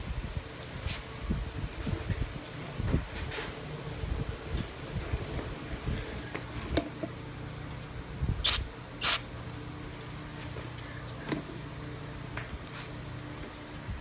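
Two short, sharp hisses from a spray can spraying into a Troy-Bilt engine's intake break through steady rustling and handling noise, close to the microphone.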